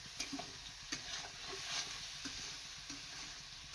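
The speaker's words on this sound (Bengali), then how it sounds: "হলুদ দিল, ঝালের গুঁড়ো সেগুলো কষিয়ে নিচ্ছে।" Turmeric and chili powder are stir-fried for a momo filling, giving a faint, continuous sizzle broken by a few light spoon clicks and scrapes against the pan, with no talking.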